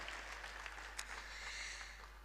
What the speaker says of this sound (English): A round of applause to our Pro-Chancellor